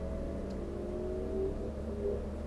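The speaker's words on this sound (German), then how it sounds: "wenn es brummt und einen die geilen Autos überholen" A Renault Megane GT220 engine drones steadily from inside the car while driving the Nordschleife, a constant mid-pitched hum with slight rises in revs and no talking.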